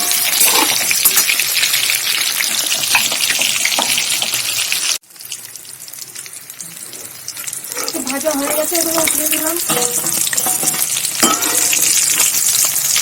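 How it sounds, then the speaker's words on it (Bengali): Chicken pieces fry loudly in a pan and are turned over and over, with a heavy sizzle, scraping and clattering that briefly stops, then returns as people talk over the cooking. "আর এদিকে আমার একটা চিকেনটা উল্টে পাল্টে ভেজে নিলাম"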